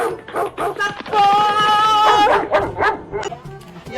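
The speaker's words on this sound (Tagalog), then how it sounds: "Hinabol kami ng aso!" A dog chasing people barks, yips and whimpers up close and loud, with excited voices shouting over the commotion in a comedic clip.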